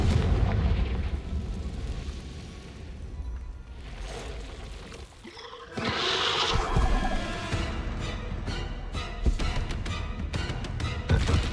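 A Confringo blasting spell in Hogwarts Legacy, cast near an Acromantula cave, sets off a rumbling explosion with a sharp burst midway and crackling debris after, loud and close over a churning background.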